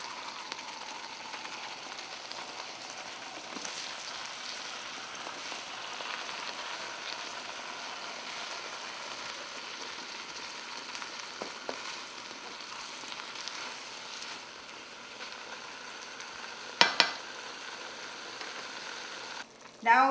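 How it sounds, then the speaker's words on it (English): Gravy for Kerala fish curry (meen pollichathu) is poured over fish in a pan, where it sizzles in a continuous, fairly quiet hiss, with a couple of brief clatters near the end. "Put all the gravy on top of the fish."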